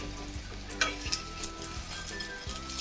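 An egg fries in a pan to a crisp finish for a vegetable sandwich, with a soft continuous sizzle and occasional light scrapes and clinks of a utensil against the pan, quiet and close, no voices.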